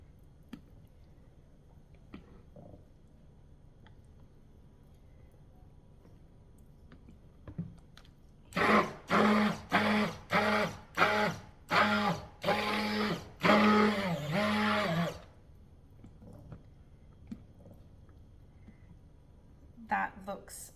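Stick blender pulsing through vanilla caramel soap batter in a series of about eight short loud bursts in quick succession after a quiet stretch, with faint handling noises before and after.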